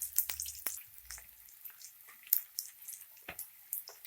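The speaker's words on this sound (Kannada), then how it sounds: "ಈಗ ಶುಂಠಿ, ಬೆಳ್ಳುಳ್ಳಿ, ಈರುಳ್ಳಿಗೆ ಸ್ವಲ್ಪ ಕಲರ್ ಚೇಂಜ್ ಆಗಬೇಕು, ಅಲ್ಲಿಗಂಟ ಫ್ರೈ ಮಾಡ್ಕೊಳ್ಳಿ." Ginger, garlic and onion frying in a pan, quiet intermittent sizzling and crackling with occasional stirring clicks, faint and close.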